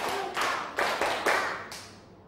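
Students in a classroom clap hands together in a quick, uneven series of about five sharp claps, close and clear, each trailing off into room echo, with no talk.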